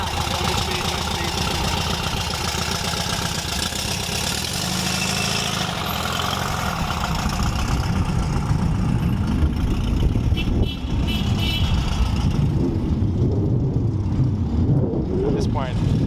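A Volkswagen Beetle engine idles with a steady, rough mid-pitched rumble, then revs and pulls away, growing louder before fading, while people talk nearby.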